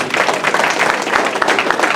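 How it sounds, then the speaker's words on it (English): A crowd at the UNIA gala applauds steadily, loud and close, with dense overlapping claps throughout. "Give the brother another round of applause"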